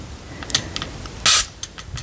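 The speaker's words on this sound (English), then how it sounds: "you fill this bottom bit up with water, and you just spray it as often or as not as you want" Handheld battery fan with a water spray bottle in its base, a short hissing mist burst from one squeeze amid faint plastic clicks and handling noises, close and quiet, whispered setting.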